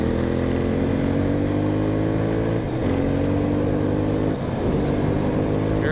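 An Aprilia RXV 550 motorcycle engine drones loudly and steadily in fifth gear at a constant pitch, held close with two short dips, and no speech.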